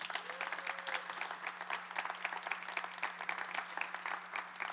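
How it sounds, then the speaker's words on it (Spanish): A church congregation applauds during a sermon after a prayer, the clapping dense and steady from start to finish, with a constant low hum underneath and no voices. "Dale un aplauso a Jesús"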